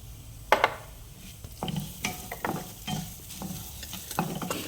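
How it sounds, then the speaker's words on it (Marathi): Fenugreek and coriander seeds roasting with lentils in a pan are stirred with a spoon, giving a series of distinct scraping strokes over a soft, steady dry sizzle. Close and clear, with no talking. "मेथी आणि धने मी आता मिक्स केलेले आहे डाळीमध्ये कारण मी आता हे एकत्रच भाजून घेते"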